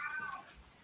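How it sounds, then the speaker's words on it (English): A cat gives a single faint, brief meow at a distance, heard alone against quiet background. "Oh, I hear the cat."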